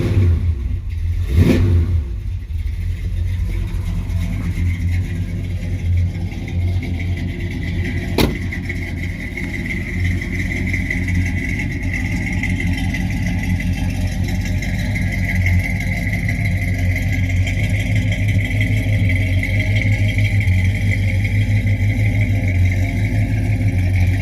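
A 1966 Ford Galaxie 500 with a 7-litre V8 idles and revs close by, a deep steady engine rumble with a brief sharp rise early on, continuing alone without talk.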